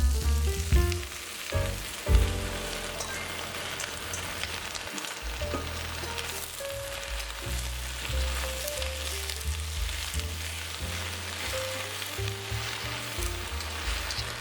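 Rice noodles frying and being tossed in a hot wok for restaurant-style beef chow fun, a steady loud sizzle with scraping and stirring clatter throughout, no talking.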